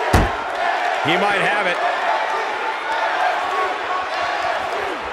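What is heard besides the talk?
wrestling crowd cheering in video game WWE 2K18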